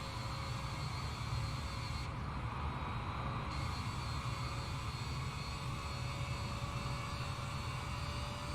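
Steady, loud roar of airliner jet engines in Microsoft Flight Simulator 2020, an unbroken drone with a faint high whine and no distinct events.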